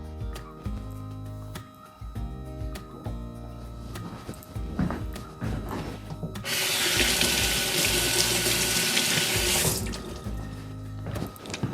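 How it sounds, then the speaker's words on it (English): Tap water running into a sink while vegetables for a sweet potato chili are rinsed, opening with clatter and handling sounds, then a steady close rush of flowing water for several seconds before it shuts off. "I'm gonna rinse these off real quick."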